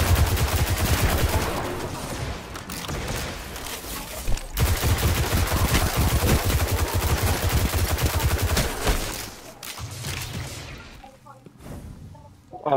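Gunfire in Destiny 2 comes as dense, loud bursts of rapid automatic shots and volleys, nearly nonstop, with players talking over the shooting.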